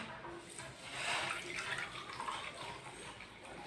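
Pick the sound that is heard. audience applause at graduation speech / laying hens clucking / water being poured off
water being poured off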